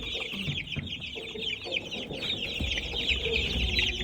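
Several chickens clucking close by in a farm poultry setting, a steady chatter of overlapping clucks with a low rumbling background and no talk.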